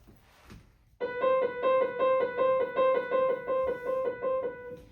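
A piano plays a rapid trill imitating a bird's wings flapping or chirping, a fast even repeated pulse of two bright notes, clear and close, starting after a second of quiet room noise.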